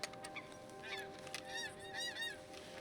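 Geese in Red Dead Redemption 2 give a series of nasal honks, several calls in quick bursts, moderately distant, over quiet ambient background with no speech.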